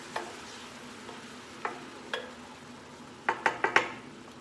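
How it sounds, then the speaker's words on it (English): A spoon stirs a green poblano mixture in a pot on a stove, giving a few separate scraping clinks and then a quick cluster of sharper metallic taps, quiet over a soft sizzle. "Give that a stir."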